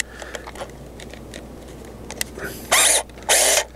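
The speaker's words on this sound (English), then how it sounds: "Drill 2 1/8 inch holes in the housing" A power drill bores 2 1/8 inch holes into a curb alarm housing, with two loud, sustained whining bursts of about half a second each, separated by a short pause and preceded by quieter handling clicks.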